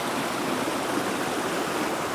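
Wallace Falls waterfall roaring steadily nearby, a dense continuous rush of falling water with even loudness throughout and no voices.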